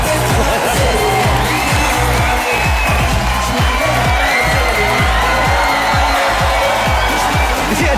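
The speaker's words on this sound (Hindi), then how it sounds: "एक बार जोरदार तालियां वैसे शाहरुख खान के लिए।" Studio audience at a comedy show applauding loudly for Shah Rukh Khan, a dense sustained roar of clapping and cheering that stays constant throughout.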